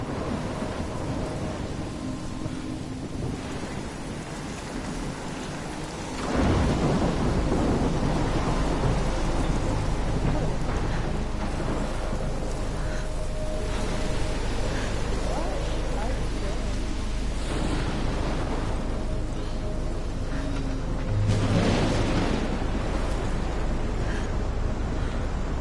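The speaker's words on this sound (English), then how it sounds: "This is not a storm. This is a tornado." A tornado tears through a seaside town near a lighthouse in Life is Strange, with a continuous roar of wind and heavy rain and loud thunder crashes rolling in at intervals. A voice talks beneath the storm.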